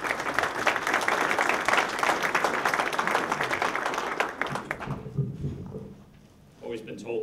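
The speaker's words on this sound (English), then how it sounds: "Let's give him another round of applause." Audience applause rises as a dense, crackling burst of many hands clapping, sustained for about five seconds before thinning out and fading, followed by a short stretch of quieter room sound and a voice.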